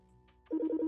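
A mobile phone ringtone from the video game Project Sekai cuts in after a quiet moment and repeats as a bright, fast, warbling electronic trill, loud and close.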